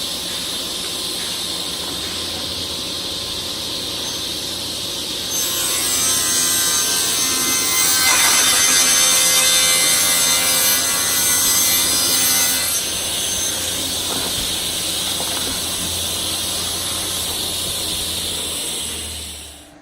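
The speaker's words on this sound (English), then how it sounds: "Set my saw for 8 inches." A table saw spins up and rips a tapered wooden filler strip for a cabinet, held in a jig, giving a loud, steady whine with a harsher cutting stretch in the middle before the blade winds down.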